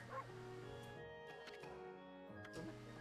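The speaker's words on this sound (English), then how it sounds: "But I'd know that bark anywhere" A dog barks and yips in the Okami HD video game, a few short calls heard over a steady bed of game music and ambience.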